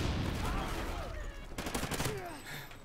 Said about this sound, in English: Someone shot me back.